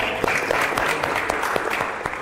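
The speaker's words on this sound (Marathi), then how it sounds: "सर्वांनी टाळ्या वाजवायला हव्यात" A village crowd claps together in a short burst of lively, close applause with a few voices mixed in.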